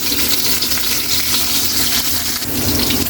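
Onion dropped into a hot pan for a catfish adobo sa gata, a loud, dense sizzle of frying that hisses steadily and close throughout, with no talking over it.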